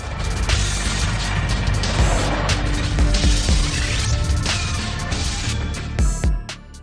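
A Suzuki Escudo 2.0 family SUV shown in a vintage TV car commercial, with loud engine and road noise mixed with dense soundtrack music throughout.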